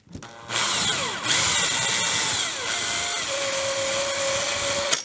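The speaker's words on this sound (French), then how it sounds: "Alors là, pour percer, on ne met pas de butée, mais on perce mollo mollo." A power drill boring a pilot hole in melamine board at slow, gentle speed, a steady loud whine with shifting pitch sustained for about five seconds, alone without talk.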